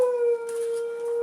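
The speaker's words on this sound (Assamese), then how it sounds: "এই কুকুৰ চাউণ্ড পাই আছোঁ ভয় লাগে" A dog howling nearby in a long, steady, wailing tone that holds at one pitch, sounding close and fairly loud.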